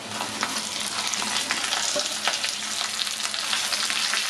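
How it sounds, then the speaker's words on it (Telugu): Curry leaves and dried red chillies fry in hot oil in a pan, a steady dense crackling sizzle with occasional sharper pops and stirring, close and continuous with no voices. "ఇప్పుడు ఇందులోనే కరివేపాకును కూడా వేసేసుకుందాము"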